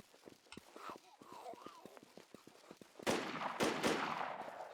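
Rapid rattling gunfire in a shooter game, coming from the bridge: a string of light, distant pops early on, then closer, heavier bursts of shots near the end.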